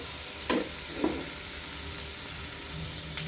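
Fish coated with turmeric and chili powder sizzles softly in a pan while a utensil stirs it, with a few distinct scraping strokes over a low, continuous frying hiss.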